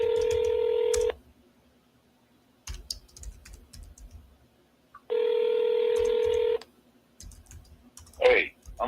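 A telephone call being dialed: two long dial tones about four seconds apart, each a steady beep lasting over a second, with quiet clicks and rustling between them and a brief voice near the end.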